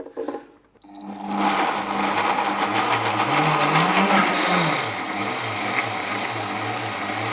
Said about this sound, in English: get them into the blender